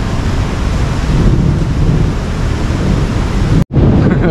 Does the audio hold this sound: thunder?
yes